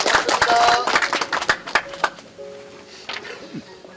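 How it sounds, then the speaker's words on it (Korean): A short burst of audience clapping welcomes clan members at a family association's annual general meeting, loud at first then thinning out into scattered claps and a few voices. "박수로 환영해 주시기 바랍니다"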